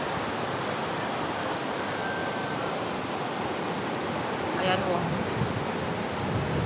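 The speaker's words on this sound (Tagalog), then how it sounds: "Gawa ng alon. Sobrang laki ng alon." Large monsoon storm waves rumble and wash continuously in a broad roar, churning up sand, with a person speaking briefly in Tagalog over the surf.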